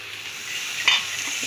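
Bottle gourd frying in oil in a pan, a steady close hiss of sautéing with a brief stir around the middle; no voices.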